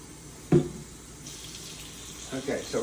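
Tap water pouring into a pot as quarts are measured out, a steady soft hiss with a brief louder splash near the start, heard up close with faint voices around it.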